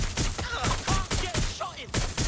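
Gunshots in the Watch Dogs video game, a rapid volley of close, punchy shots at a fairly even pace, with shouted voices mixed in.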